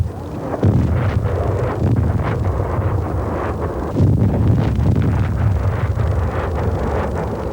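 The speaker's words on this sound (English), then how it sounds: "Constant Iraqi artillery bombardment across the desert waste" Iraqi artillery bombardment across the desert near the Abadan oil refining centre on the Shatt al-Arab waterway, heard as continuous rumbling low thuds and blasts with wind noise, loud and steady throughout.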